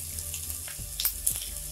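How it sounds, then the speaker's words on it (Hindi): Chopped onions frying in hot oil for a vegetable omelette give off a soft, continuous sizzle. A few brief splashy crackles stand out, and it stays fairly quiet throughout with no talking. "तेल गर्म हो चुका है, अब हम इसमें वेजिटेबल्स डालेंगे। तो सबसे पहले हम प्याज डाल देंगे।"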